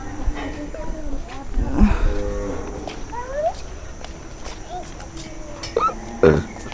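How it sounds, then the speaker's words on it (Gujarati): Gir cows low in several drawn-out calls at moderate distance in a cattle shed, with a voice talking in the background and a steady ambient hum. "આ બે ગીર ગાયો છે જો હજારોની સંખ્યામાં ગીર ગાયો છે"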